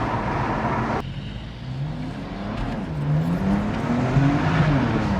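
A BMW M2 Competition, heard from inside as a passenger, accelerates hard with slight wheel slip: a loud engine note climbs steadily through the revs after a sharp shift, under a constant rush of road and tyre noise.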